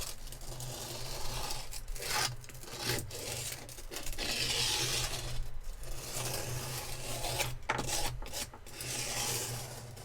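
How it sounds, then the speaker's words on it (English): Sandpaper is worked back and forth over wood in a home build, producing repeated raspy scrubbing strokes with brief pauses between passes, close up and fairly quiet, with no voices. "What I might do later is actually take some sandpaper to it."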